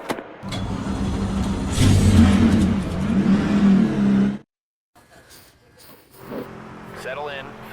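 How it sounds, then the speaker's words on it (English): Race car engines in the NASCAR 25 video game drone loudly and steadily with rising revs during track practice, then cut out briefly before a fainter engine hum returns. "The cars are out on the track practicing for this weekend's race."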